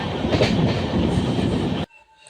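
A train rolls loudly and steadily into NJP station on a journey toward Sikkim and Darjeeling, with continuous rumble and carriage clatter for about two seconds before cutting off abruptly.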